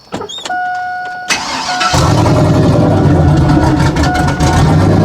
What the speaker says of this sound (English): Here goes the first test drive.